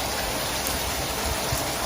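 Steady rain falls outdoors, a dense, even hiss of drops on surfaces that stays constant and fairly loud throughout with no voices.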